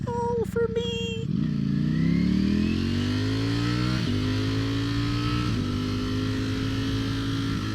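A 2021 Ducati Streetfighter V4S motorcycle riding and accelerating, its engine pitch climbing smoothly through the gears with brief dips at each shift, loud and close.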